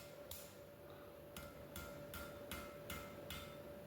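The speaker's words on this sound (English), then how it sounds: "hammering in the tip, upsetting it back to make it the correct shape that I want." Hammer strikes upset the hot tip of a cut chisel held in tongs at a blacksmith's anvil: several sharp metallic blows at a steady rhythm, close and clear over a constant forge hum.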